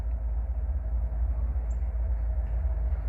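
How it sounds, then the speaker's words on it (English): A train rolling slowly through a rail switch while backing down into a siding, heard as a steady, loud low rumble with continuous wheel noise and no clear clanks. "They're going to back that train up in there."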